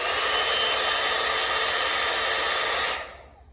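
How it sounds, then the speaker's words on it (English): A hair dryer blows air in a loud, steady whooshing roar that holds constant, then cuts off abruptly near the end and leaves only a faint fading hiss. "Sounds like a hairdryer"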